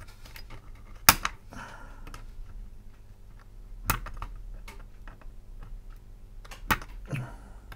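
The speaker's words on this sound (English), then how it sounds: "Trim those legs off." Side cutters snip capacitor legs during a repair of a Panasonic DMR-ES10 DVD recorder, giving three sharp, isolated clicks spaced a few seconds apart over quiet handling noise.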